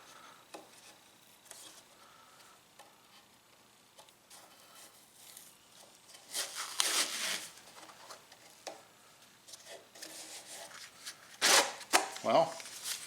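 Old high-friction sheet, stuck on with contact cement, being peeled off a Shopsmith push block: soft tearing and rubbing noises, quiet at first, then louder ripping bursts near the end.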